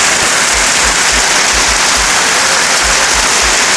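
First rain of the year falls steadily, a dense, even hiss of rainfall close by with no voices.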